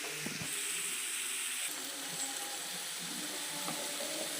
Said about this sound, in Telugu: ఉల్లిపాయలు బాగా ఫ్రై అవ్వాలండి.